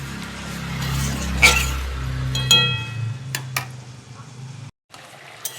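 A lid is set onto a cooking pot of soybean curry with a light metallic clink and scrape, close by, over a soft sizzling bubble that fades to near silence.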